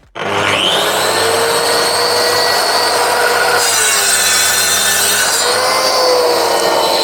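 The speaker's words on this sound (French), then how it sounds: "je vous fais un test dans du mélaminé avec la lame d'origine" Mafell MT55 plunge saw with its original 48-tooth blade cutting into melamine board, a loud, steady high-pitched whine and rasp that starts abruptly and holds for several seconds, alone without talk.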